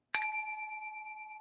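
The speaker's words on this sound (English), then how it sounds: "I deserve a bell." A single bright bell ding rings out during a casual crochet meetup, struck once and left to sustain with a clear ringing tone that slowly decays.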